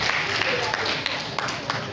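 Audience applause for two primary schools at a children's quiz final, a short burst of steady clapping from a crowd in a hall.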